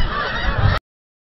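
Geese honk during a goose hunt in a single brief, close burst of calls lasting under a second.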